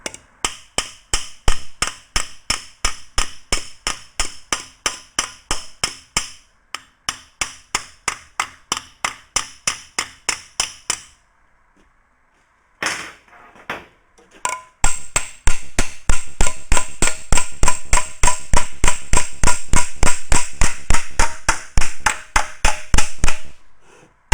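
A steel Willys Jeep front panel is hammered against a form. Sharp, ringing metallic blows land in fast, even runs, loud and close, with a short pause partway through before the strikes pick up again.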